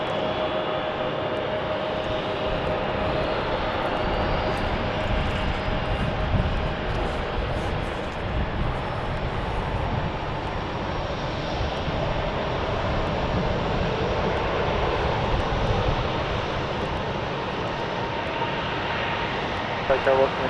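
A fixed-wing airliner landing on runway 34 left at Salt Lake City Airport, its engines making a steady, loud broadband roar throughout with no obvious peak, heard from an outdoor planespotting spot.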